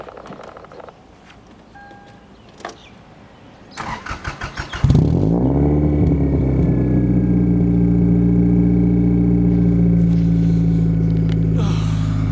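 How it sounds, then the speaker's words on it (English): A Lexus IS200 (Toyota Altezza) engine cold-starts early on a cold morning: a few quiet knocks, a short cranking burst, then it catches with a loud flare and settles into a steady, close, high idle. "Nice cold start."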